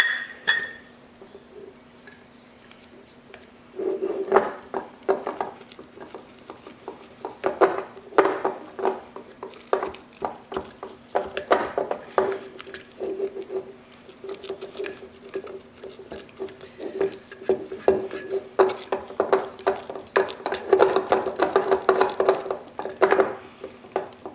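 Rye sourdough starter is stirred together with flour and water in a bowl, giving a continuous close, sticky patter of wet slaps and irregular scraping taps.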